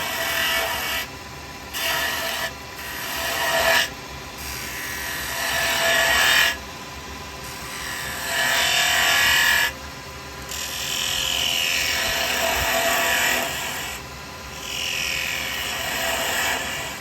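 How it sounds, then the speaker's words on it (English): Carbide chisel cutting wood on a lathe, heard as repeated bursts of harsh hissing, scraping shear lasting one to three seconds each, separated by brief pauses under a constant motor hum. "Now rolling the chisel over again because we don't want no rough cut."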